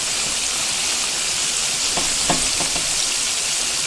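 Chicken fries in hot grease in an old cast-iron skillet on a stovetop, a steady close sizzle with a few soft clinks and scrapes of turning near the middle.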